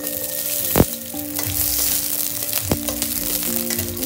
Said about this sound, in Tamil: சின்ன வெங்காயத்தை நல்லா ஆட் பண்ணி ஃப்ரை பண்ணிடுவேன்